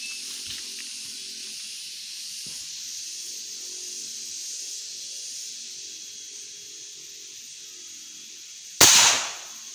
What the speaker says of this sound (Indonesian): Kali ini kita akan tes akurasi mau nembak sasaran genteng ya.